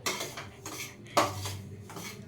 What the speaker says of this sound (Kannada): ಚೆನ್ನಾಗಿ ರವಾನ ಹುರಿಬೇಕು.